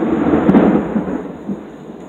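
Thunder rumbles during a thunderstorm, a loud low rolling boom with a sharper crack early on, fading over about two seconds.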